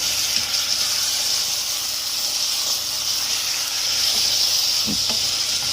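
Marrow curry simmering in a pan, a steady soft hiss and sizzle with a brief scrape of stirring near the end, close and moderately quiet, no talking.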